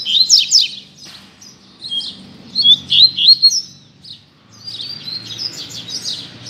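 Double-collared seedeater (coleiro) delivering bright, rapid high-pitched song phrases in several bursts with short gaps, close and clear over a faint low background hum.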